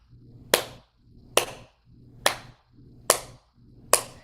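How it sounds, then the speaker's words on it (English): Five single hand claps at a steady pace about one second apart, each a sharp close slap of hands coming together and opening back up, with a faint low hum between them. "I want you to clap them together and come back open"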